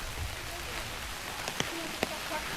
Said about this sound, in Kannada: ಮಳೆ ಬರ್ತಾ ಇದೆ, ಮಳೆಯಲ್ಲಿ ಹೋಗಬೇಕು.